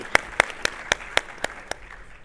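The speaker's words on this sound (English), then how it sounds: "let's have one more round of applause for SignalFire" Seven sharp, evenly spaced hand claps ring out in a hall after a startup pitch at a tech conference stage event, tapering off with a faint murmur behind.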